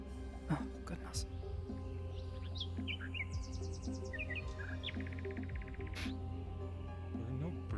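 Birds chirp and tweet in short bright bursts and trills within a video game scene set near clean blue water and rocky cliffs, heard over a steady low ambient hum with occasional soft clicks.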